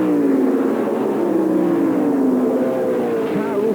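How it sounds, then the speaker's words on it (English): A single Formula 5000 race car, a Lola T332, on overrun into a turn at Ruapuna, its high-rev note falling smoothly as the throttle lifts, loud and fairly close, with a brief rise near the end. "you can hear that car on overrun down into turn 1"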